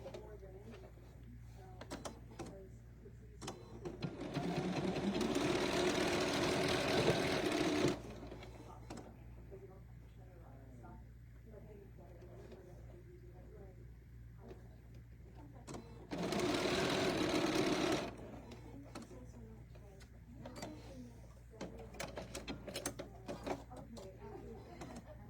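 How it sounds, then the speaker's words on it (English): A sewing machine stitches quilt table runner blocks in two steady whirring runs of several seconds each, with someone talking in the quieter stretches between. "when we sew the end blocks on"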